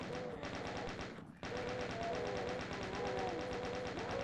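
Chaingunner enemies in Doom II spray rapid, continuous automatic fire, a dense steady rattle that briefly drops out and resumes, fairly quiet overall.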